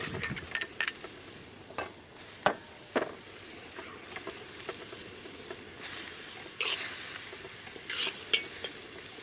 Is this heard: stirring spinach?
yes